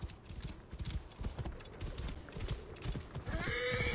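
Horse hooves clopping in a steady rhythm in the video game Assassin's Creed Origins, ending with a clear, drawn-out whinny from the horse.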